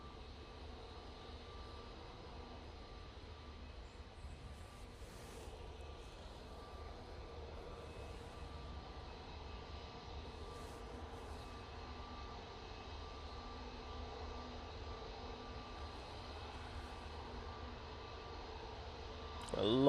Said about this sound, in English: There's that Virgin Atlantic now on short final.